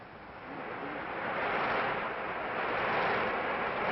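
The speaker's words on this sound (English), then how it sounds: "Storm at sea." Storm-at-sea sound effect made by rolling BB shots across a drum head, giving a steady, dense roar that swells gently and holds throughout like surf and wind.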